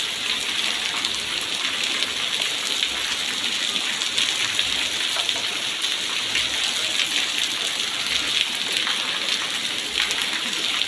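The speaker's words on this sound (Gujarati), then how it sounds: "અમારે ત્યાં પણ ખૂબ જ વરસાદ છે." Heavy rain falls in a steady, close, dense wash of drops splashing on surfaces, loud and unbroken throughout with no talk.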